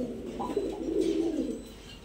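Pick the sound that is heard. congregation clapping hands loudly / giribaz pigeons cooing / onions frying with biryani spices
giribaz pigeons cooing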